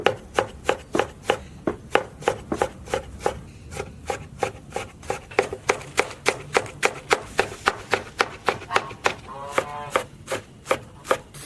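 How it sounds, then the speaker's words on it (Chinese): Scallion and ginger being chopped with a knife on a board, a fast, steady run of sharp close knocks at roughly two to three per second, loud and alone without talk. "切点葱姜"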